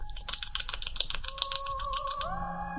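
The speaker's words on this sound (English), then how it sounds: "When I tap the spacebar over and over again, it just sounds like I'm wanking" Rapid, repeated taps on a computer keyboard spacebar, a quick irregular run of close clicks that stops short, with a faint tonal hum rising underneath toward the end.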